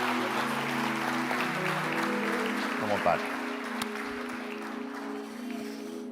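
A church congregation claps together in a sustained wash of applause, with a low organ or keyboard drone underneath and a voice speaking briefly over it.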